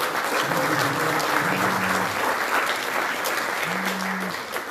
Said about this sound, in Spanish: Fuertes aplausos para el señor